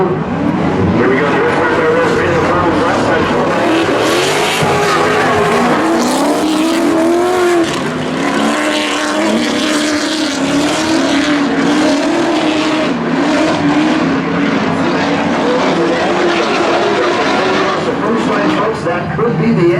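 Drift cars at a Southwest Drift ProAm round in Denver roar and rev continuously with squealing tires, loud and sustained throughout, with commentary talking over the engines.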